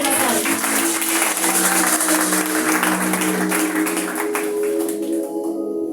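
A church congregation applauds at an evangelical service, producing loud, sustained, dense clapping that fills the room steadily and then thins out at the end.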